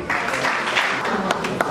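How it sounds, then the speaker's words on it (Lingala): An audience claps at a gathering honouring artists and comedians, a short burst of dense applause with a few sharper claps standing out. "si nous pouvons acclamer pour lui"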